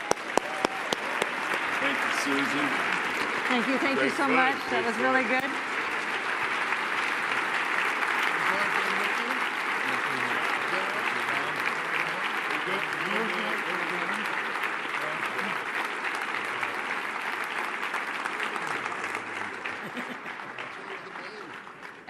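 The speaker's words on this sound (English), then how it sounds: "Let's give them a round of applause." A large audience at a national leadership forum plenary applauds steadily for about twenty seconds in a dense, even roar of clapping, while a speaker talks briefly over it.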